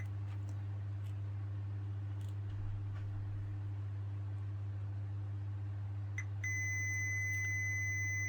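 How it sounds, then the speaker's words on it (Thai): Digital multimeter in continuity mode beeping while probing a shorted diode, a steady electronic tone that starts near the end over a constant low hum and faint ticks. "ค่าต่ำๆแล้วก็มีปี๊บต่อเนื่องลักษณะนี้นะครับ ก็คือเป็นการช็อตสกิดนะครับ"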